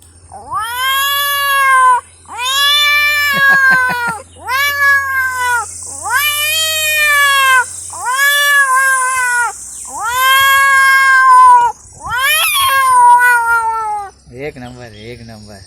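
A voice loudly imitates cats fighting, drawn-out yowling caterwauls repeated in long bursts with brief pauses, ending in a harsh, strained cry.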